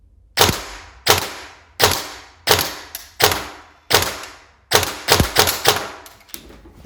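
Bolster Armouries ONYX Blackout rifle fired on semi-automatic at a range: about ten loud, sharp shots, spaced singly at first, then a quicker cluster of four near the end, each with a short decaying tail.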